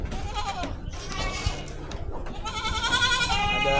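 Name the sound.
goat bleating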